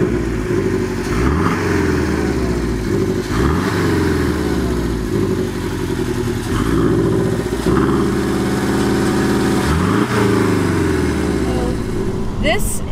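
Porsche 718 Boxster four-cylinder engine droning steadily while driving, rising and falling through gear changes, loud and close from inside the cabin.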